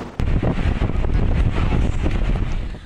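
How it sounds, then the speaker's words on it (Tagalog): Strong typhoon wind buffets the microphone in coastal Santa Ana, Cagayan, a continuous loud rumbling roar with gusty surges and no voices. "Malakas din ang hangin"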